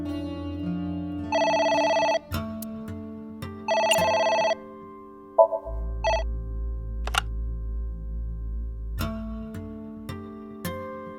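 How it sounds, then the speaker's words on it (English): A telephone rings in the video game AI: The Somnium Files, two bright electronic ring bursts sounding over layered game music, followed by shorter chimes and a low droning tone. "It's the phone. Maybe try picking it up?"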